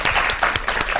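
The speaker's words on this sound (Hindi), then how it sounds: "ये तालियां हैं इस बात की सूचक कि हम सब मिलकर अच्छा ही करेंगे इन इम्तिहानों में, और हमारा मनोबल बढ़ाने के लिए रश्मि मैम" Audience applause during a televised exam-strategy talk, a steady wash of many hands clapping at close range, brief and fairly loud with no voices over it.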